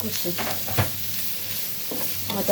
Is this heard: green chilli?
yes